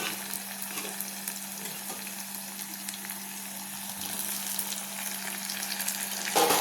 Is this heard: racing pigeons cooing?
no